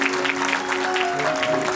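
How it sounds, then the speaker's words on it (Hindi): A crowd at a Jain diksha ceremony breaks into dense, continuous applause, loud and sustained for the whole short stretch with no break. "आज कंजूसी नहीं, आज तालियों की गड़गड़ाहट"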